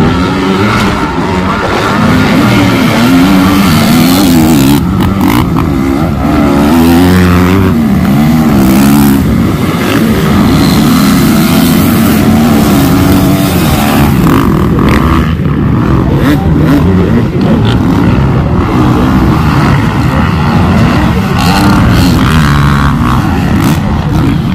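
Motocross dirt bikes at a big-bike practice session on an MX track, engines revving and droning loudly and continuously, rising and falling as the riders accelerate, with no talk.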